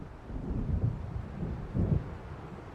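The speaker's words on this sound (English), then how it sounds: "It seems there's a storm coming." Low distant thunder rumbles in steady swells beneath wind and rain noise as a storm approaches in Alan Wake Remastered, with no voices present.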